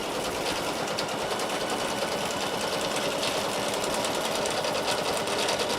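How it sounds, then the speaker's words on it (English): A domestic sewing machine runs steadily at speed during free motion quilting through batting, with a fast mechanical rattle and whir that holds constant and close throughout. "Now you can hear that my machine is also getting a little bit rattly."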